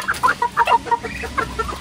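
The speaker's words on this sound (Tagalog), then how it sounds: "Kinukutuban po yata yung kakarnehin po namin na manok at malalayo po." Native chickens cluck in a quick run of short, repeated calls outdoors near a fishpond, fairly close and steady in level, with no talk over them.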